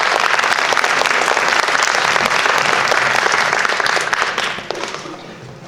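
A large audience claps steadily and densely for about four and a half seconds after a student research presentation at an academic conference, then the applause thins and fades near the end.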